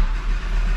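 A Lamborghini engine fires up, a loud steady low rumble filling the short moment close to the car, with no voices over it.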